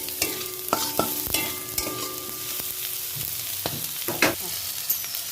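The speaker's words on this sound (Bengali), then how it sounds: "সবজিগুলো আমার ভাজা হয়ে গেছে আমি ডালটা অ্যাড করে দিলাম সবজির মধ্যে" Chopped vegetables sizzle in a pan for a vegetarian dal while a spoon stirs and scrapes in repeated strokes, close and clear with no voices.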